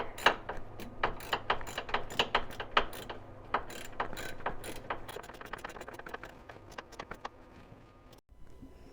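A ratchet clicks repeatedly while a new tie rod is tightened to the frame of a C3 Corvette, rapid metallic clicks in bursts that come close and fairly loud, then slow and stop near the end.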